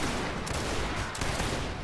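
Massed musket volleys ring out in a Mount and Blade Warband Napoleonic Wars battle. The crackling fusillade is loud and continuous, with sharp overlapping reports throughout and no voices.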